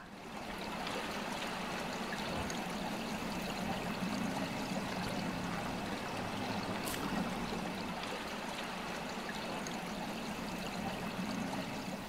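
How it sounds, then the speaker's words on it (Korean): Clear stream water of the Odaecheon flows between snow and ice in a steady, continuous rushing trickle, close and even throughout with no voices. "얼음 사이로 흐르는 맑은 오대천 물입니다."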